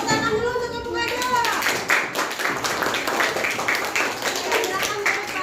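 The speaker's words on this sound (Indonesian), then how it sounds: "Tepuk tangan dulu untuk avocado." A classroom group of children claps for classmates called avocado as they come forward, a quick burst of close hand claps settling into a steady, fairly even rhythm with young voices murmuring underneath.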